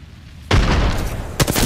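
Frag grenade explosion in Apex Legends erupts as a sudden loud boom after brief quiet, followed by a second sharp blast about a second later, both with rumbling tails.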